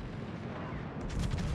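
Naval gunfire from enemy warships in World of Warships, French battleship Jean Bart, rumbling as a steady low roar of distant cannon booms that swells louder toward the end.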